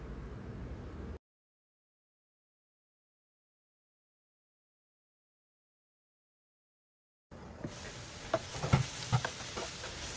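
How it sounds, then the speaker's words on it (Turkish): Eggplant pieces frying in oil in a pan are stirred, with a soft sizzle and scraping that stops abruptly, then a long silence before the sizzling resumes with sharper stirring knocks near the end. "Patlıcanları ara sıra kontrollü bir şekilde karıştırarak pişirmeye devam edelim."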